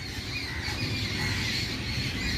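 Several birds squawk and chatter continuously in daytime, mobbing an owl that has strayed into a tree, a steady harsh squealing chorus at moderate distance.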